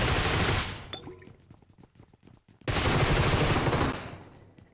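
Automatic gunfire in the mobile game PUBG Mobile, with a loud sustained burst, then a gap of a few separate shots, then a second long burst that fades out near the end.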